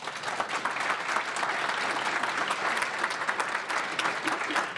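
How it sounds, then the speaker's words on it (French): Audience applause for the speakers at the close of a public debate on surveillance and civil liberties, a dense, steady clatter of many hands that holds at full strength with no talk over it. "Et peut-être qu'on peut applaudir nos intervenants."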